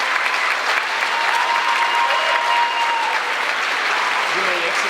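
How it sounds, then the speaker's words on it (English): Sustained audience applause fills the hall at a senior awards ceremony for the Class of 2026, a dense, steady clapping from a large crowd with a faint voice beneath it. "One more round of applause, please,"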